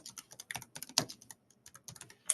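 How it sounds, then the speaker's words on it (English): Quick, light clicks of typing on a computer keyboard, close and quiet, in irregular bursts of keystrokes with brief pauses between them. "if I can type that correctly."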